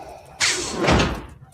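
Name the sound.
set of doors bursting open, Star Wars sound effect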